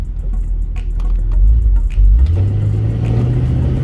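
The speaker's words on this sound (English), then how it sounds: "There's that little bit of exhaust rattle I told you about that can be fixed." A 1969 Pontiac Firebird engine revs and rumbles loudly up close, with a rough, rattling exhaust note from an exhaust rattle as it accelerates.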